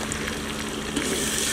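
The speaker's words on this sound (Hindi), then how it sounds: "टमाटरों का पानी खुश्क होने तक भून लेंगे।" Finely chopped tomatoes frying in oil in a beef karahi after ginger-garlic paste, making a steady, dense sizzle and crackle that stays level throughout, close and unbroken with no talking.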